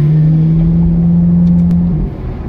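A Ferrari engine holds a loud, steady, close droning note for about two seconds before the pitch drops and the sound eases off.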